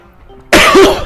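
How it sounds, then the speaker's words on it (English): A single harsh cough from a player of Pikmin bursts out suddenly after a moment of near silence, loud and close. "Man, I have a bad cough today."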